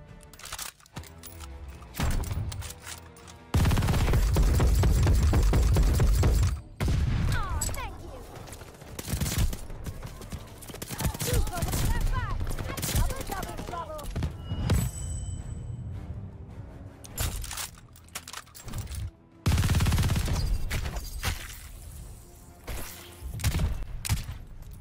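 Rapid gunfire from the H4 Blixen in a video game, loud bursts of shots that come and go over the clip with other explosions and impacts, while players talk throughout.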